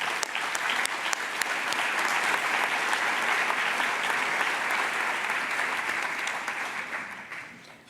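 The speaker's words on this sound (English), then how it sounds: "Please join me in giving these incredible organizations a round of applause." A large crowd at a philanthropy awards ceremony applauds honored organizations, producing loud, sustained clapping that holds steady for several seconds before tapering off at the end, with no speech.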